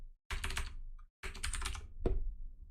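Fingers rattle across a computer keyboard in two close, dense bursts of rapid clicking, separated by a brief pause and ending with a single heavier thunk.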